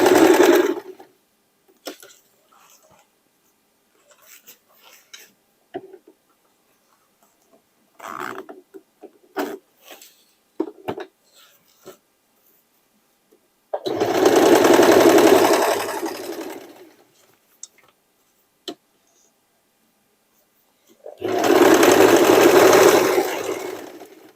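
A hobby sewing machine runs straight stitches through old denim for a make-up bag, with two long loud motor runs and several short bursts and taps between them, close and alone.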